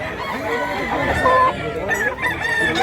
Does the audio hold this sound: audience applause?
no